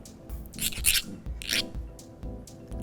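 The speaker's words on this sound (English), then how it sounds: "So I'm feeling the back and the front of that corner and just filing a little bit." A flat hand file rasps back and forth over the corner of a sheet metal bracelet in short, close strokes, several scraping passes with brief pauses between them, fairly quiet with no talking.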